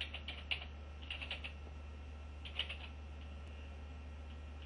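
Keys clatter on a computer keyboard as a command is entered, a few quick bursts of clicky keystrokes separated by pauses over a steady low electrical hum.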